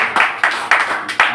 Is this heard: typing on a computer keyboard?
no